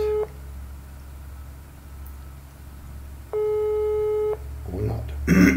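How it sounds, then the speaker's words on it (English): A phone ringing tone plays after the phone icon is pressed in a browser calling app: two steady electronic tone bursts with a gap between them, over a low hum, followed by some faint background noise. "We hit the phone icon, you can hear it ringing."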